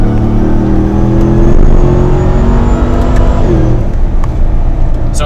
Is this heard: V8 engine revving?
yes